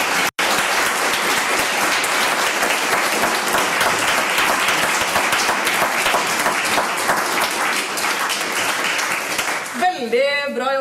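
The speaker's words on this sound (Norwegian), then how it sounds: "Dere skal få lov til å gi dem en applaus nå" Loud, sustained applause from a live podcast audience cheering candidates, dense clapping that carries almost to the end before cutting off, with a brief voice at the close.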